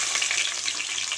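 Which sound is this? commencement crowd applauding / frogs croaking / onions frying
onions frying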